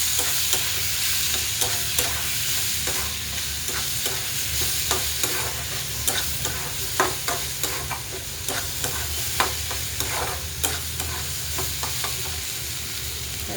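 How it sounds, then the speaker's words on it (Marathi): A spiced curry of field beans with garam masala and red chili is stirred as it fries in a pan, giving a continuous close sizzle broken by frequent scraping clicks of the spoon, with no voices. "परत एक जीव करूया."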